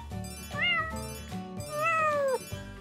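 A cartoon cat meows twice, each a bright, drawn-out falling cry, loud and alone over soft background music.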